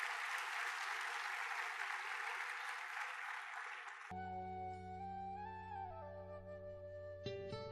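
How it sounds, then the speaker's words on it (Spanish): A church congregation gives the Lord a loud round of applause, dense steady clapping filling the first half before cutting off abruptly into soft sustained music. "Le regalamos al Señor un fuerte aplauso."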